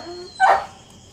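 A single short dog bark rings out at moderate distance, rising sharply and fading within a moment against quiet surroundings.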